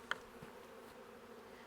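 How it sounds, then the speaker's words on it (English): Honey bees in a hive box give a faint, steady, close buzzing drone that runs throughout, with one short sharp tap near the start. "there's a ton of bees down in here."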